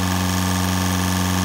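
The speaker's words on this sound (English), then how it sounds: "If you have the B-29 and you go hypersonic, it sounds so wrong." A B-29 bomber engine in the Roblox game Military Tycoon running at hypersonic speed makes a loud, steady droning hum with strong unbroken tones and no variation.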